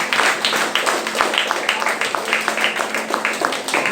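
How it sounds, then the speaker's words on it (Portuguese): A church congregation claps and applauds during a worship service, a dense run of rapid irregular handclaps at moderate loudness, with voices mixed in. "Você pode aplaudir a Jesus?"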